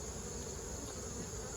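Honey bees buzz at an open hive during a beekeeping inspection, a dense, continuous drone close to the mic with no pauses.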